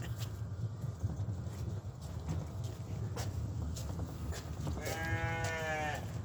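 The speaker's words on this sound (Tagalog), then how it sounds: "Sabi ng kambing, me." Goats bleat near the end, a wavering, harmonic cry rising over steady outdoor rumble and low background noise on a farm.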